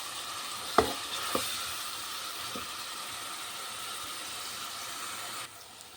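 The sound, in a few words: sautéing onion paste with salt in a pan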